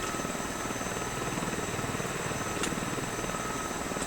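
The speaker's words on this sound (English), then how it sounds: "Is the tail rotor still running?" Steady drone of a helicopter's rotors and engine in the X-Plane flight simulator, a continuous even hum with a faint rhythmic chop throughout and no other sounds.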